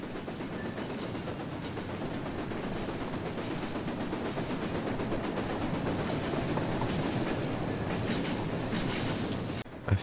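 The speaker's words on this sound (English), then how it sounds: "So we'll get the Erie steam locomotive in." An Erie steam locomotive from the Rolling Line model railway game rolls along the track, giving a steady rumbling, clattering run with no voices, then briefly dips and knocks at the very end.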